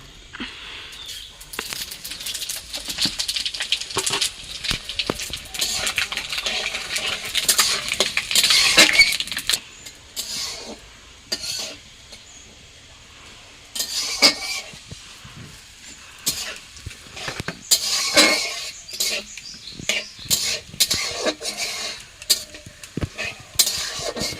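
Panch phoron spices stirred in hot oil with dried red chillies for a Bengali labra dish, a steady scraping and clinking of a spatula against the pan over a soft sizzle, fairly close, with no voice.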